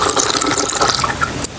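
Water splashes and trickles steadily as it is poured into a copper tumbler, a close, continuous sound with no voices.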